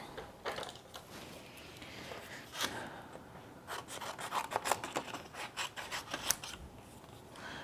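Scissors fussy cutting around a stamped design on cardstock, a series of close, quiet snips and rasping paper scrapes in an irregular rhythm, with no voices.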